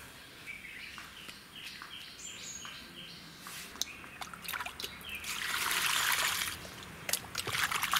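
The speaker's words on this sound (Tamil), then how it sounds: "இதை வந்து தண்ணியில் போட்டு கழுவி எடுத்துடலாம்." Small cut pieces of dried sura fish are washed by hand in water in a village kitchen, with soft sloshing and trickling that swells into a louder splashing burst midway, while faint birds chirp in the background.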